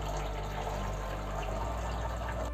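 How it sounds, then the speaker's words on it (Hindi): Water falls from the outlet of a homemade hang-on-back aquarium filter into a filled tank, making a steady, continuous splashing and trickling rush that stays even throughout with no talk. "पानी यहाँ तक भरा हुआ है और ऊपर से पानी गिरने की वजह से ये आवाज़ आ रही है"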